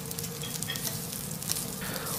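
Wagyu beef sizzling on a teppanyaki griddle at a high-end Tokyo teppanyaki restaurant, a continuous close, hissing fry with light crackles and faint scraping, no talking.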